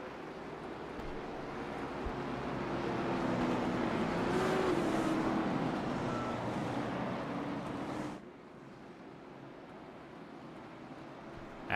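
Race cars circle Hickory Motor Speedway in a sim racing game, a sustained engine drone that swells and rises in pitch, then drops off abruptly to a quieter, more distant hum.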